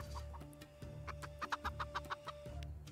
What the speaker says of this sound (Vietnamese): Anh em bấm vô cái chuồng gà là nghe tiếng gà kêu rất là chân thực luôn nha.